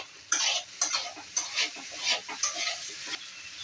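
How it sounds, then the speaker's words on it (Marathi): Okra and onion frying together in a pan, a constant sizzle broken by repeated scraping stirs that come in a loose, regular rhythm, close and fairly loud. "आपल्याला भेंडी भाजण्यासाठी किमान तीन चार मिनटं लागणार आहे"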